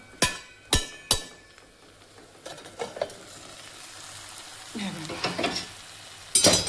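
Dry potato sabzi frying in oil in a pan: three sharp metallic clinks of the stirring spoon, then a low sizzle under scraping stirs that grow busier toward the end, with no talking.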